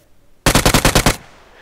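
A rapid burst of automatic gunfire in the PUBG video game, about seven loud, close shots in quick succession lasting under a second, with quiet before and after.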